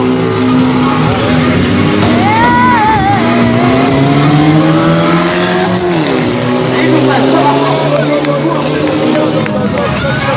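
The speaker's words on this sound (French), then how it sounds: "Et là-bas, sans adhérence. Dérapage, contrôlé." Car drifting in a controlled skid during a motor show demonstration, with loud revving engine and squealing tires sustained over crowd noise and commentary.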